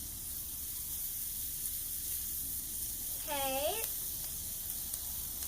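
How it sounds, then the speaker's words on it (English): Black truffle butter sizzles quietly on a hot Blackstone griddle, a faint, steady hiss with a brief spoken word partway through. "But first I'm going to just put down some black truffle butter here."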